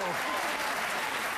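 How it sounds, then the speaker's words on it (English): A talk-show studio audience, mostly men, claps in a dense, continuous wash of applause that stays steady from start to finish. "So actually, the guys clapped for that."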